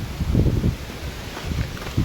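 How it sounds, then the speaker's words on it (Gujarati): Strong wind gusts through trees beside a cowshed still under construction, where a neem tree has fallen, producing a loud, continuous rustling roar that surges in two bursts. "તો પવન તો જોવો કેવો પવન આવે."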